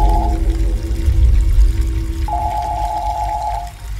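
Water runs steadily from a tap in a toilet during a radio horror drama, with a soft flowing rush under faint tonal background music.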